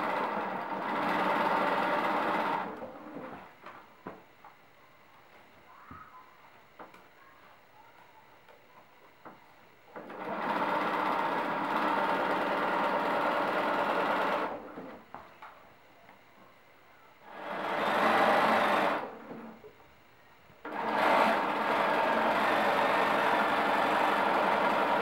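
A sewing machine stitching elastic onto a pencil skirt, running in steady whirring bursts of a few seconds each, separated by quiet pauses, close and alone.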